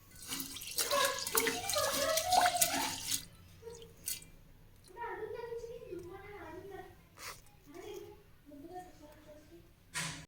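Rice and moong dal being rinsed by hand in water in a kitchen, with splashing and sloshing bursts early on, then quieter swishing as someone talks over it.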